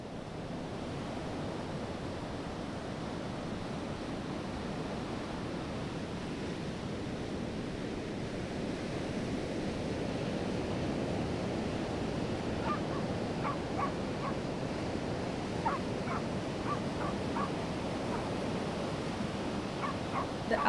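Ocean surf washes in a continuous broad roar, steady and full, with a few crows cawing faintly in the distance toward the end.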